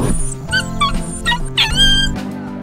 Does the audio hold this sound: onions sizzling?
no